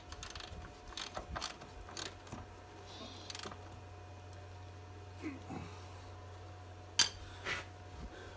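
A ratchet tightens the top strut bolts on a 2013 Sonata, with short bursts of clicking and occasional metallic clanks over a low steady hum.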